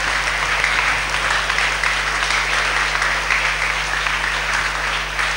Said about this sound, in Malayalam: ഇവർക്ക് വലിയൊരു കൈയടി കൊടുക്കണം ചെറിയ മക്കൾക്ക്.